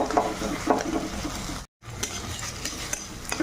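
An egg frying in oil in a pan, cooked for a quick potato-and-egg curry, sizzles steadily close by, with brief stirring scrapes and a short silent break midway.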